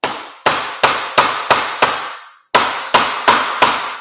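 A hammer striking a coconut to crack it open, ten sharp heavy blows in two rhythmic groups separated by a short pause, loud and close with no talk.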